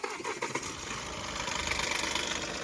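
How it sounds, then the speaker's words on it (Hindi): A Mahindra TUV 300 with a 1.5 litre diesel engine cranks and fires, then settles into a steady, loud, close-up idle with a rapid rhythmic clatter and no talking. "सो गाइस अभी हम गाड़ी को आपको स्टार्ट करके दिखाएंगे और दिखाएंगे कि गाड़ी में कोई अनवांटेड नॉइज़ तो नहीं है स्टार्ट करने वक्त"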